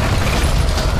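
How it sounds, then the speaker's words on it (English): A loud, dense explosion rumbles through an underground cave in the video game Tomb Raider (2013), a short blast of booming noise heard alone. "This is why you don't set off explosions underground in caves."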